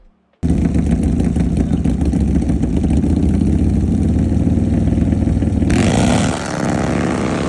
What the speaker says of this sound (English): here's our clips of us actually running the bikes together, and it was a pretty good race